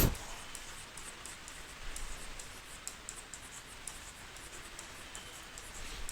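A pen scratches across paper while a company name and journal-entry heading are written out for a commerce exam answer, a soft, close, continuous scratching with faint ticks.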